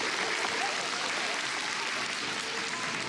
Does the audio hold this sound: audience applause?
yes